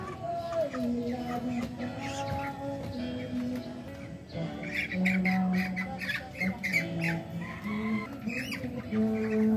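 Chickens squawk and cluck continuously at close range, several birds overlapping in a busy, noisy chorus.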